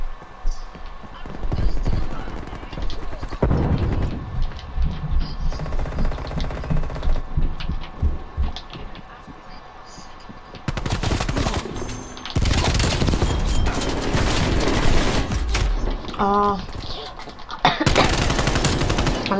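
Rapid gunfire bursts from a Call of Duty match, with rattling automatic volleys and single shots mixed with game effects and a player's voice talking over parts of the action.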